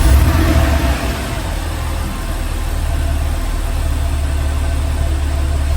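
A 2009 Porsche 911 Carrera Cabriolet with a six-speed manual settles from its start into a loud, close, steady idle, a deep even rumble with a slight dip after the first second.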